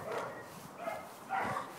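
Dogs barking somewhere off at a distance, a few faint separate bursts of barking over quiet outdoor background, with no talking.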